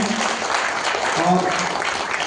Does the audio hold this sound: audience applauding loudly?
yes